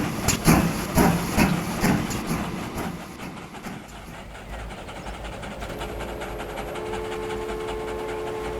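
Very long freight train pulling away in Transport Fever 2: busy noisy start giving way to a steady low engine rumble and rising tonal hum as it gathers speed, with no talk.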